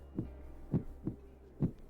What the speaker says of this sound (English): His heartbeat is picking up.